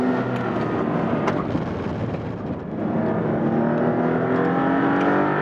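A Maserati MC20 sports car engine revs and accelerates steadily in GT mode, its rising tone climbing through the gears, loud and close, with a brief dip midway.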